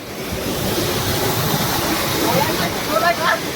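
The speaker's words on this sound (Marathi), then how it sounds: "आम्ही आता धबधब्यावर पोहोचलेलो आहोत." A steady roar of falling water from the Parsawada waterfall rushes throughout, broad and constant, with faint voices mixed in underneath.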